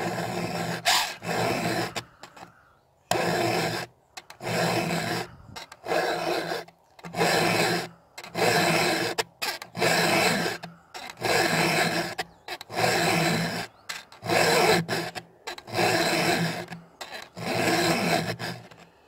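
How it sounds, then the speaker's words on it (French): A round file rasping over the teeth of a chainsaw chain in steady back-and-forth strokes, about a dozen close, loud passes separated by brief silences. "enlever ce surplus de matière avec la lime ronde, tout en faisant bien attention de ne pas toucher l'angle de biseau devant."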